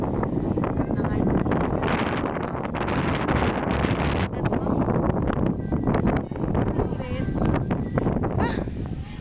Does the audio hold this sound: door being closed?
no